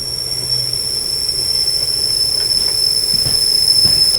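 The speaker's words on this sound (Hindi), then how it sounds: "प्रयागराज जंक्शन स्किप कर रही है अपनी अमृत भारत एक्सप्रेस" The Amrit Bharat Express passes Prayagraj Junction, a loud continuous rumble of rolling rail cars with high, sustained wheel squeal and faint clacks over the rails.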